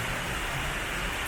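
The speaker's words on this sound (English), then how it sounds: "Rain's coming down heavy again." Heavy rain pours down over a Bangkok street, a dense, steady hiss with no let-up and no voices across the short stretch.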